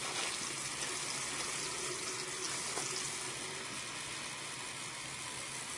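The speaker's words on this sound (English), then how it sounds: "I'll use a paper towel to turn on the water." Water runs from a sink tap while a bedpan is being rinsed, a steady broadband gush that continues evenly throughout, close and unbroken, with a faint clink partway through.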